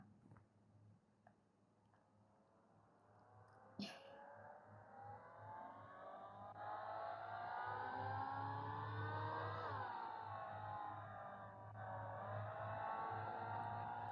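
A car engine in a taxi driving video game drones steadily and rises into a louder revving whine, with a brief click near the start and pitch dips as it strains, heard alone without talk.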